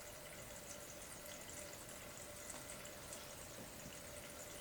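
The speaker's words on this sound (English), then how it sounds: "it's a shame that the noise of the pump is louder than the noise of the dripping." A small water fountain pump from a cheap gadget hums steadily throughout, its continuous drone louder than faint dripping water mixed into the noise, with no talk.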